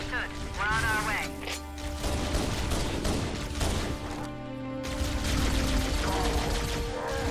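Plasma pistol shots in the Halo: Combat Evolved video game on Legendary, dense energy-weapon bursts and battle noise mixed with in-game voices and a continuous game soundtrack, loud and layered throughout.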